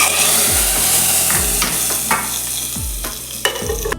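Mustard seeds, garlic, dried chilli and asafoetida fry in hot oil for a Tulu-style tempering, a close sizzle broken by rhythmic scraping strokes of a ladle against the pan about once a second.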